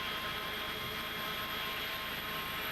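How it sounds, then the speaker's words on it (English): Simulated Airbus A300-600 jet engine spooling up during start in X-Plane 11, a steady broadband roar with a high whine, continuous and even throughout. "And we're starting the other engine."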